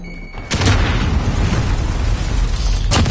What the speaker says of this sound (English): A grenade explosion.